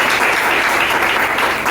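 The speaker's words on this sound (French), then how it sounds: "Voulez-vous aussi applaudir pour les professeurs?" Audience at a university conference-debate in Kindu applauding the professors, a steady dense wash of clapping that stays loud and even from start to finish, with no voices over it.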